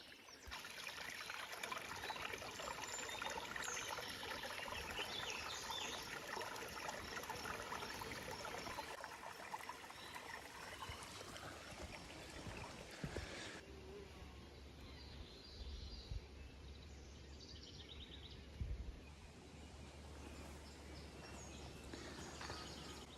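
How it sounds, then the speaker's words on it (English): A small creek trickles and burbles steadily along a wooded trail in the Iowa Driftless Region, a soft, continuous wash of flowing water with faint birdsong in the background. "Check out this little creek."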